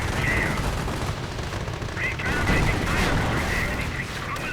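Gunfire and a tank gun go off in a Company of Heroes 2 battle as a Panzer force advances. Rapid, overlapping shots and bursts crackle continuously at a steady, loud level, with a voice partly mixed in.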